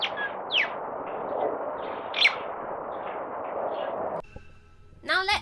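A common mynah in a Singapore park calls again and again, its sharp chirps and whistles rising over a steady noisy background, with a louder burst of calls at the very end.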